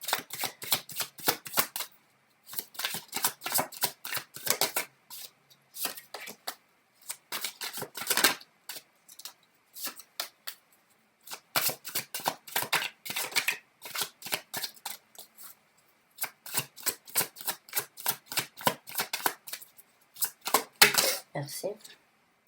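Fortune-telling cards being shuffled and drawn, long runs of rapid riffling clicks broken by short pauses, close and crisp with no voice over it.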